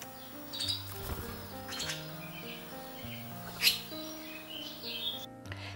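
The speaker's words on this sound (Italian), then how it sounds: "I cinguettii aumentano di giorno in giorno." Busy springtime bird chatter with swallows feeding their young: repeated bright chirps and tweets come from several birds at close to moderate range, with one sharp squawk, over a steady low hum.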